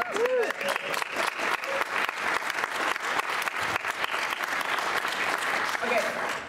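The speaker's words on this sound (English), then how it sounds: "clap quick and stop" An audience at the PAX West convention claps enthusiastically and continuously for several seconds, a dense, steady patter of many hands close by.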